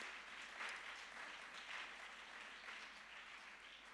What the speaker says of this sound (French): Est-ce qu'on peut applaudir pour ces merveilleux titres?